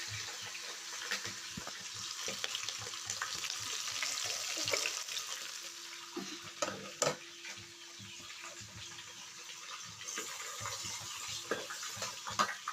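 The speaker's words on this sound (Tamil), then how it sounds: "கடுகு வடிக்கிறேன், கொஞ்சம் வெந்தயம் போட்டுட்டேன்" Mustard seeds and fenugreek in hot oil, giving a soft, steady sizzle with scattered pops and crackles, quiet and close, with no speech.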